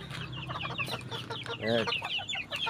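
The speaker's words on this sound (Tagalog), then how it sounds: "So yun po sila lahat na yung ating alagang manok." A flock of backyard pet chickens clucking after being let out of their coop, overlapping calls with a louder squawk midway, alongside a brief spoken word.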